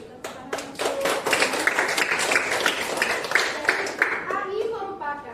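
Students in a coding and artificial intelligence lesson give a round of clapping, brisk and close, building for a few seconds and then fading, while voices talk over it.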